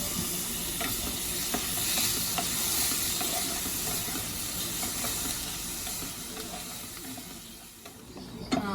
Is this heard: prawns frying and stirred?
yes